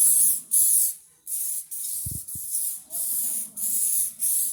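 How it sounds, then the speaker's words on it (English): Repeated short hissing sprays from an olive oil spray can onto homemade pizza dough, about eight bursts in quick succession with a light clunk partway through. "we're going to spray the ends with the olive oil"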